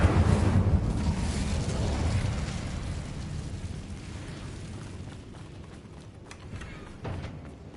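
A fiery Incendio spell bursts out in a Harry Potter video game, a loud whooshing roar that fades and rumbles over several seconds, with a small pop near the end.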